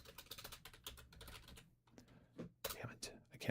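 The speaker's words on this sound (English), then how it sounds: "Damn it, I can't type." Computer keyboard keys tapped in quick irregular bursts, close and fairly quiet, with a short pause partway through before the typing resumes.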